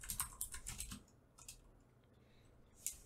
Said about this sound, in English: I just have to type it manually